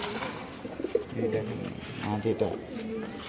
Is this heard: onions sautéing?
no